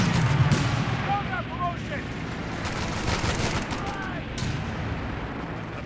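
Heavy artillery, airstrike blasts and rattling gunfire fill a Company of Heroes 3 battle, a dense continuous barrage with sharp repeated cracks and booms, loud throughout, with voices speaking over the combat.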